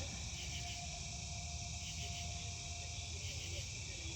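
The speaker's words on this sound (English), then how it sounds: "Can you hear the insects?" Night insects trill steadily outdoors near a fire pit in southwest Ohio in late July, a constant high-pitched chorus with faint rhythmic swells over low background noise.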